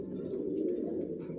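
Racing pigeons in a loft give a low, continuous throaty cooing, close and fairly soft, with a faint chirp or rustle in the background.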